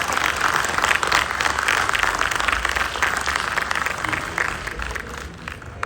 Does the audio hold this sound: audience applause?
yes